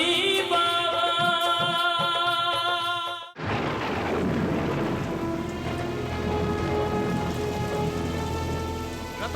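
Heavy rain falls at night, a dense steady hiss of drops on surfaces with a low rumble beneath, taking over loudly after a few seconds of dramatic music and continuing without voices.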